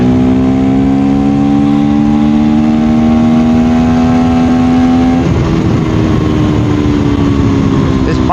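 A KTM Duke 390 motorcycle engine drones loud and close at steady high revs, then the pitch drops abruptly at a gear change and settles lower, with constant wind rush throughout.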